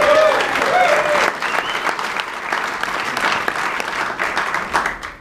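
A crowd at a cocktail-event face-off applauds and cheers loudly and steadily, dense clapping with shouts and whistles mixed in throughout.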